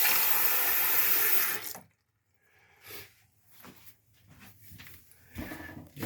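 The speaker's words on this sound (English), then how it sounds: "Got a new faucet on here right now." Water gushes loudly from a newly installed kitchen sink faucet, then cuts off abruptly, followed by scattered quieter clunks, drips and handling sounds near the basin.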